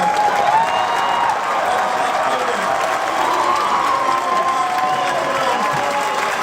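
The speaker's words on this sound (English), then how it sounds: "please join me in thanking our debaters tonight, Ben Shapiro." A large crowd at the Politicon 2017 political debate applauds and cheers, a loud, steady roar of clapping mixed with whoops and shouts that holds at full strength throughout.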